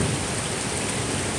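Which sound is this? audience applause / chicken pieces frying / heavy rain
heavy rain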